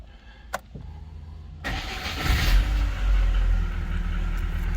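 A ZR car's engine, treated with engine flush, cranks and catches after a brief click and then settles into a steady, close idle with a continuous low rumble.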